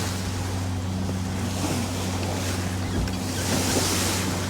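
A boat crosses the open Atlantic Ocean in deep blue water about 2,000 feet deep on the way to the Bahamas. Waves rush steadily with wind buffeting the microphone, and a low, constant engine hum runs beneath.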